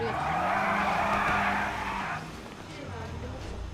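A car in GTA 5 pulls away with a loud, sustained tire skid and squeal over a revving engine for about two seconds, then the engine settles to a lower drone as the car drives off.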